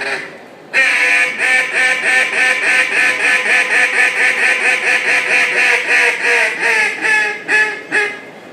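A duck call is blown in competition calling style at the World Championship duck calling contest in Stuttgart: a loud, close, rapid, unbroken run of rhythmic quacks lasting several seconds after a brief lead-in.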